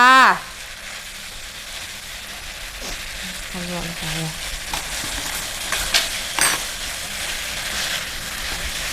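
Thai basil and spaghetti stir-fried in a pan hiss and sizzle steadily with occasional scraping, under people chatting close by.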